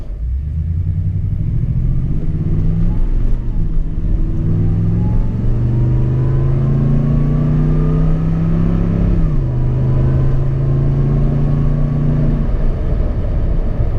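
A 2018 Toyota Tundra engine revving at partial throttle, a loud, close, steady rumble whose pitch climbs and falls through several rev swells and holds high before settling.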